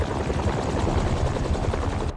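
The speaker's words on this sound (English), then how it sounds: "a helicopter's blades." Helicopter rotor blades thump in a steady rapid pulse within the Spider-Man 2 video game, a loud, dense, continuous chopping that cuts off abruptly at the end.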